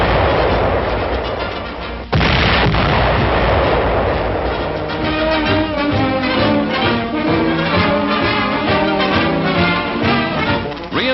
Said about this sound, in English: The great offensive weapon is fired by remote control, and here the Signal Corps camera records its first shot in public.